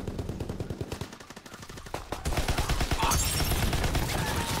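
Gunfire from a slow-firing gun in Call of Duty: WWII, a steady stream of close, rapid shots that grows louder and denser partway through, with no talk over it.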